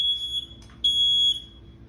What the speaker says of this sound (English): As you can see, an alarm to let me know that it's actually in working condition